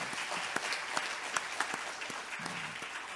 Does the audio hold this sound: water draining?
no